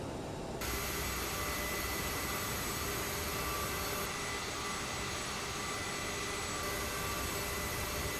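Aerosoft CRJ 700 jet engines in Microsoft Flight Simulator, throttles eased forward for taxi: a steady, continuous jet whine and rumble that holds evenly throughout, with no talk.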